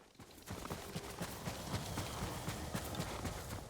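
A horse's hooves clip-clop at a steady walking pace in the video game Ghost of Tsushima, the rhythmic thuds continuous and fairly close over a dense bed of ambient game noise.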